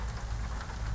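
Steady in-game rain in American Truck Simulator, a dense, even hiss of drops pattering on a truck, continuous and moderately loud with no voices.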